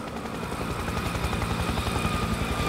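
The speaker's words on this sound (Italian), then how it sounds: "Piano, elicottero in arrivo." Helicopter approaching in the video game Spec Ops: The Line, a rhythmic rotor thump that holds steady and grows slightly louder over a few seconds, with no talk.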